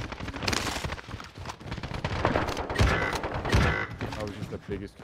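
Assault-rifle gunfire in Call of Duty Warzone, with rapid close bursts and overlapping shots that stay loud and continuous for about five seconds.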